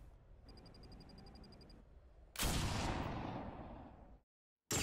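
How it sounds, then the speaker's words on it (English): Sniper rifle shot in the video game Binary Domain: a sharp, loud blast with a long decaying tail, preceded by a quieter rhythmic electronic beeping, then a sudden cutoff to silence and another burst. "Sounds like the Halo sniper."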